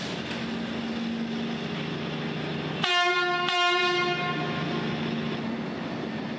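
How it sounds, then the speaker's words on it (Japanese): A train horn sounds at Xi'an railway station, a huge Chinese terminal with heavy train traffic. Two loud, close, harmonic blasts are heard, the second following soon after the first, over a steady rumble of rail noise. "西安駅は北京や上海などから1日200本以上の列車が発着する中国有数の巨大な駅だ。"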